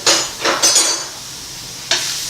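A wooden spoon scrapes and stirs small pieces of sausage in a hot pan, a few short scraping strokes close up over a soft background sizzle.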